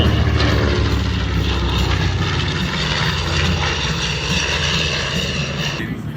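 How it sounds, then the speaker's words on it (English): The loud, droning roar of a B-25 bomber's piston engines running steadily and close at an air show, a thick rumbling wall of sound throughout with no voices. "That's the loudest airplane I've ever flown."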